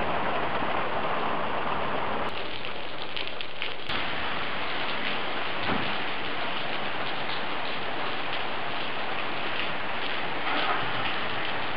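Steady rain falls near a lake in Towada, a constant dense patter of drops on surfaces, with faint ticking spatters scattered through it.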